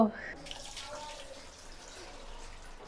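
Water pours steadily into a cooking pot of chicken pilaf with potatoes, a continuous splashing stream close by with no talking.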